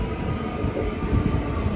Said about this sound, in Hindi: अभी देखिए दूर से एक ट्रेन आ रही है, यहाँ पे ट्रेन सिस्टम चलता है सारा सिटी के अंदर।